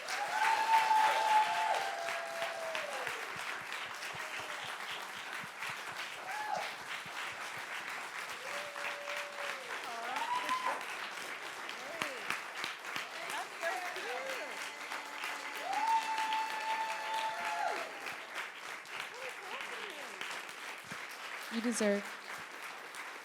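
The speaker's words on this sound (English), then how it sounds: "I would love for you all to please join me in a loud round of applause for Dr." Audience applause for Dr. Akilah Cadet at an evening conversation event at Booker T. Washington, steady clapping throughout with voices and cheers mixed in and a few spoken words heard over it.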